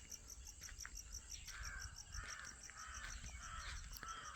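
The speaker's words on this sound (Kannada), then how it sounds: "ನೋಡಿ, ಎಲ್ಲ ಪಕ್ಷಿಗಳು ಕೂಗ್ತಾ ಇದ್ದಾವೆ." Morning birdsong around a farmhouse in Kumta, Uttara Kannada, with repeated calls and a steady insect chorus layered over distant crow caws, continuous and moderately faint in open outdoor air.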